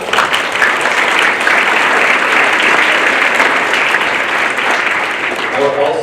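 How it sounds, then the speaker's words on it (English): A school audience claps steadily and loudly for helpers at an international night event, a dense broadband round of applause sustained for about six seconds with little variation. "I'd like to give a little round of applause for everyone who helped with that part of those"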